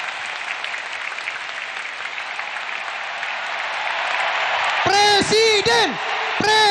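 A large crowd at Jakarta International Stadium welcomes Anies Baswedan with sustained, steadily swelling applause, then loud voices break in with shouted, chant-like cries over the clapping near the end.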